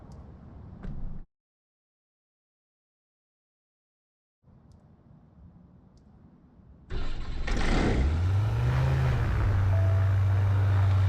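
A Sling TSi light aircraft's propeller engine cranks and starts after a short pause, catching with a loud rising roar and then settling into a steady close idle drone.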